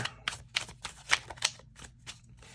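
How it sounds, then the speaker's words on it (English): Tarot cards riffle and flick in quick, irregular bursts, close and crisp, with no talking. "let's do 3 more shuffles"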